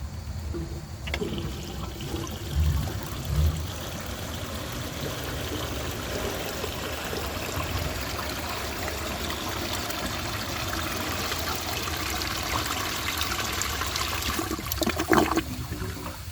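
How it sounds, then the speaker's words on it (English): A 1910 Ahrens & Ott Leader toilet flushes a floating grocery bag: a sustained rush of water pouring and swirling for many seconds, then gurgling and trickling as the bowl drains and refills, steady and close. "This test will be a little harder since a grocery bag floats more than a washcloth, and this toilet doesn't have very good suction power."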